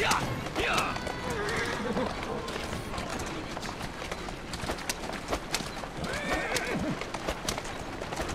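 A horse whinnies twice and its hooves clatter at a gallop through a busy Victorian London street in the Assassin's Creed Syndicate game, with wheels and street noise close around it and someone talking over the top.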